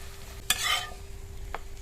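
Stuffed mini paratha with a mango pickle filling frying in a pan over low to medium flame gives a short burst of sizzle and scraping, then settles into a quiet background hiss with one small tap.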